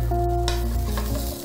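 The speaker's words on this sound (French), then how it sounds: "Ce son, c'est le son de la croustillance." Steady close sizzling of a crispy Vietnamese crêpe (bánh xèo) frying in a hot pan, with faint scraping and crunching as it's turned.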